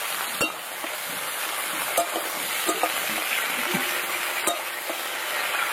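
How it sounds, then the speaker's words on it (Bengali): Mixed vegetables for neem shukto, including green banana, papaya, drumstick, brinjal and potato with salt and turmeric, sizzle steadily in a pan, with a few sharp clinks of the spoon during stirring. "এই যে নাড়াচাড়া করে নিয়েছি, এবার ঢাকা দিয়ে দেবো।"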